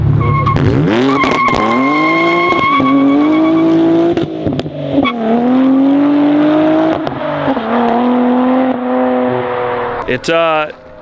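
A loud, tuned 2023 Nissan Z with bolt-ons and over 500 hp screams through repeated rising revs, bouncing off the limiter with abrupt traction-control torque cuts and tire squeal, up close.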